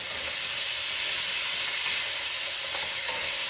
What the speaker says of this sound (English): once this is done searing, it's on high heat.